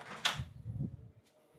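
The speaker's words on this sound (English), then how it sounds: "Well, that's the door." A door opens or closes nearby with one sharp bump followed by a low rumbling slide, then a faint second knock, and no voices.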